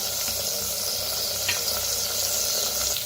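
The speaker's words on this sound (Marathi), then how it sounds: "तर कांदा छान असा भाजून घेतलेला आहे." Onion fries in a clay pot with a steady, close sizzle and crackle, with faint stirring taps heard throughout.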